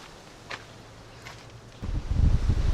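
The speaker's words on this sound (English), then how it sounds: "The wind is whipping today. I don't know if the muffle on the mic will be able to quiet the sound." Strong outdoor wind buffets a muffled microphone on the cliffs of Prince Edward Island, with a couple of faint gusts early on before a loud, rumbling roar of wind noise takes over for the last second.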